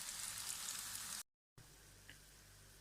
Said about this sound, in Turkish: Yəni yağda qovrulsun